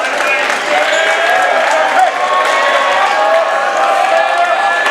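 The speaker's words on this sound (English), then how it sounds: "the sarcastic cheer goes up from the Edward Little fans" Edward Little fans raise a sarcastic cheer in a high school basketball gym, a dense crowd roar with clapping and whoops that holds steady and loud, mixed with chatter.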